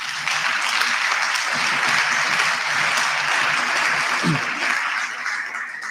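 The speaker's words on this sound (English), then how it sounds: "Let us give SAFETSA a round of applause for that." An audience at the National SRC Induction 2025 applauds SAFETSA, a student organisation fighting gender-based violence on campuses, with a loud steady wash of clapping and scattered voices and cheers, holding for several seconds and easing slightly at the end.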